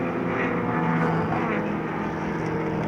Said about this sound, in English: GTO Ferraris, V12 3-litre engines, Single overhead camshaft.